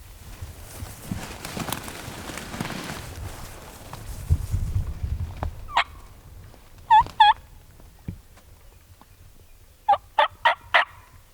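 Loud wild turkey gobbles ring out in short bursts, a pair followed later by a rapid series of four, after rustling footsteps and movement outdoors on a wooded ridge in Alabama.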